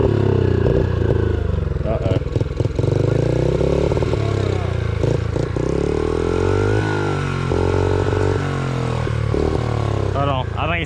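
A pit bike engine runs steadily up close on a muddy trail ride, with a continuous buzzing drone that shifts slightly in pitch while people talk over it.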